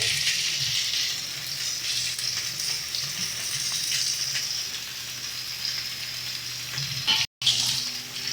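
Fried coconut stirred into softened cooking vegetables for a festive mixed-vegetable dish, giving a continuous soft sizzle with scraping stirs, close and moderately quiet, briefly cut off near the end.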